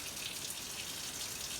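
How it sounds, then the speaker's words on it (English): Hot water runs from a kitchen tap in a steady, even hiss with no talk, as water is measured out for proofing yeast for babka. "So I just run in the tap for as long as I can."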